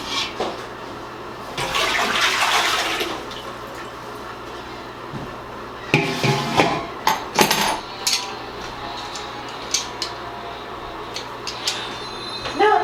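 A toilet flushes during a plumbing repair, a loud rushing surge of draining water near the start that fades into a hollow refill gurgle, followed by scattered clunks and clatter of handling.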